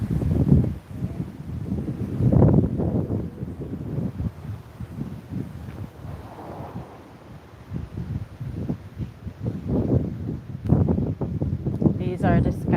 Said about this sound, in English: you can hear the wind behind us